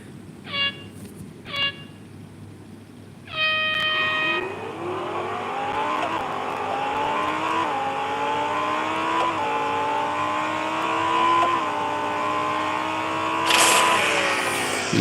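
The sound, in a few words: race cars launching off the start in video game Real Racing 3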